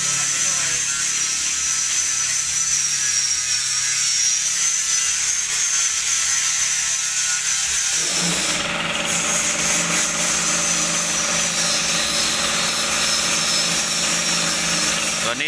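A power sander works over a car body in an auto repair shop, a steady close whirring roar that shifts to a harsher, brighter grind midway, with voices faintly beneath.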